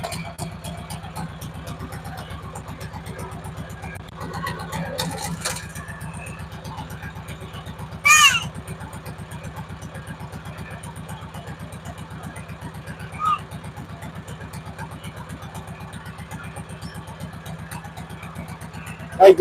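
A sawmill engine runs steadily in low gear while milling lumber, a continuous low rumble with brief clanks and one loud metallic squeal near the middle, no talk heard.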